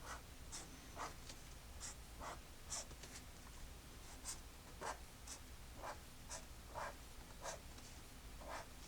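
Pen or marker drawing a sarcomere diagram for a lesson on muscles, heard as steady scratchy strokes in a regular rhythm. Each stroke is short and close, and the room behind them is quiet.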